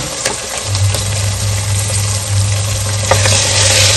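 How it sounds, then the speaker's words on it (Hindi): Peas and potatoes fry in oil in a pot, a loud steady sizzle with stirring scrapes and a low rumbling hum beneath, with no voices. "मटर और आलू को हम कितना भून लेंगे"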